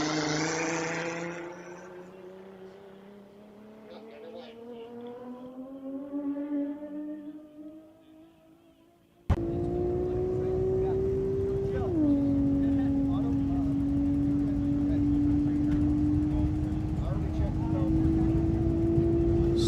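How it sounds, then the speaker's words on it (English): Alfa Romeo Spider fitted with a Toyota 2JZ six-cylinder on a dry-lakebed land speed run, a sustained engine drone that climbs steadily with one shift midway, loud and continuous after a sudden onset, with announcer talk early on. "It's an Alfa Romeo Spider sporting a Toyota 2JZ 6-cylinder"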